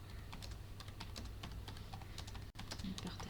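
Fast typing on a computer keyboard while text is entered into a Padlet board, steady quiet clicking keystrokes with a short pause near the end, with faint speech in the background.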